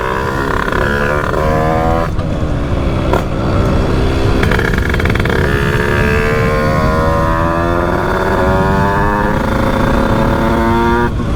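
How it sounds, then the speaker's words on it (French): A motorcycle with a greasy exhaust pipe runs close by, its engine sputtering and popping in uneven bursts over a steady idle and rev that never drops out. "vous voyez la moto elle pétarade"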